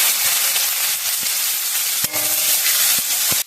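Boiled nora fruit dropped into hot oil seasoned with bay leaves, dried red chillies and five-spice, sizzling loudly and steadily up close, with a few sharp pops and stirring knocks.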